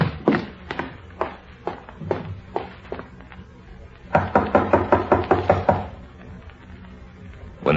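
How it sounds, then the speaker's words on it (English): Knocking on a bedroom door in an old-time radio drama comes as a few spaced knocks, then a faster burst of several sharp raps, close and distinct against a quiet background. "When there was no answer to their knocking, they opened the door and stepped into the room together."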